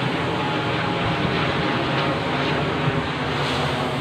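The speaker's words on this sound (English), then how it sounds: "Plane over my head." Broadband engine roar from an airplane flying overhead above a Sydney street, a steady loud drone that holds evenly throughout with no talking.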